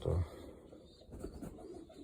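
A pigeon gives a short low coo at the start in a loft of racing pigeons, followed by faint rustling and soft background noise.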